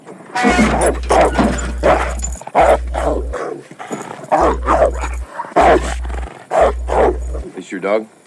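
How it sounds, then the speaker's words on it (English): A dog barks and growls in several sharp bursts, close and loud, mixed in with people talking. "This your dog?"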